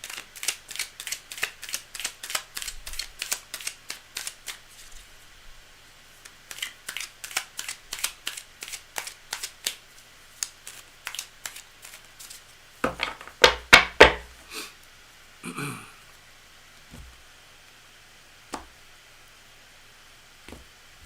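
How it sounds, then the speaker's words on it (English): Rapid dry riffling and soft clicking of a card shuffle, rippling in quick bursts, then a few louder snaps and thumps before trailing off to scattered taps. "All right, Gregory, let me just do one last little mini shuffle here."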